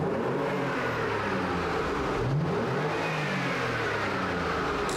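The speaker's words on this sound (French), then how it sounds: "J'aime le son que rayonne ce petit moteur-là" A 2015 Porsche Macan S engine drones steadily and revs up and down with the window down, close and loud, with broad road and wind noise throughout and no talking.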